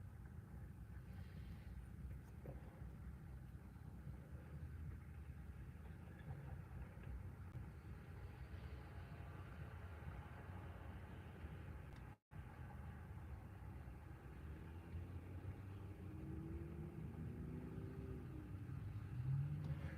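A car's engine and drivetrain, with a rotating noise coming from the clutch area, heard from inside while driving: a steady low rumble throughout, with a faint rising whine near the end and no talking.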